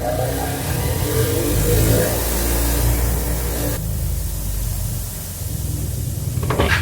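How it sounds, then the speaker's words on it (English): Bench wire wheel grinding rust chunks off an old lock in a home shop, a steady loud motor whir with abrasive scraping throughout, the tone shifting partway as the lock is pressed and moved against the spinning brush. "I think I'm going to go ahead and hit the lock on the wire wheel real quick too, just to get some of the big chunks off."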